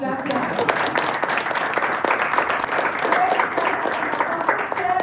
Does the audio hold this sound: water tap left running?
no